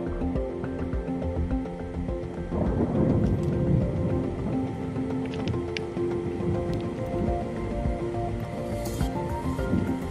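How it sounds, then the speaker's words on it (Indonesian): Steady rain falls at a mountain camping area on the Papandayan trek, a dense, continuous patter on surfaces that swells briefly partway through, with no voices. "Jadi berbarengan ketika sampai ke camping area hujan turun"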